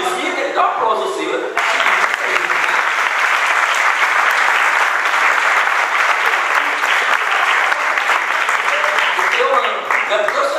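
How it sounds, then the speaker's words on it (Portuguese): Audience applause during a church sermon: a voice briefly at the start, then loud, dense clapping from a crowd that continues steadily for about nine seconds. "ele dá um aplauso assim"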